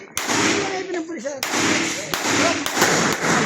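Several sharp, loud bangs like firecrackers or gunshots crack out at irregular intervals, each one abrupt and close, mixed in with people talking.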